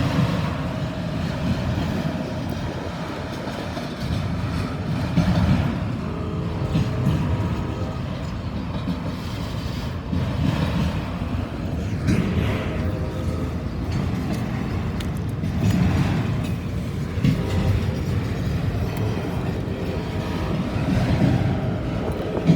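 Northbound freight train approaching on a windy day, a steady broad low rumble with rolling swells that build and ease over the clip, mixed with gusty wind noise and no voices.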